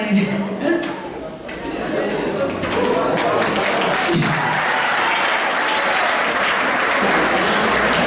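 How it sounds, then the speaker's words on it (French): An audience applauds a contestant at the 2013 Miss Africa Switzerland pageant. The clapping swells after a brief opening of voices and stays loud and dense, with chatter mixed in. "On applaudit pour Luisa Tando."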